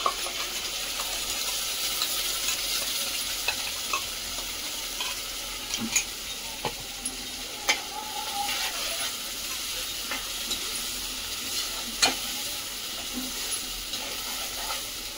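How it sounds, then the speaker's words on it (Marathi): Coconut-onion masala paste sizzles gently in a pan for a rhyming fish curry, a steady soft frying hiss with occasional light clicks and scrapes of stirring, fairly quiet and without talk. "तर या वाटण टाकूया आता"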